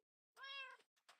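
A single short meow from a black cat in the video game Minecraft, clear and tonal, followed by a couple of faint soft sounds.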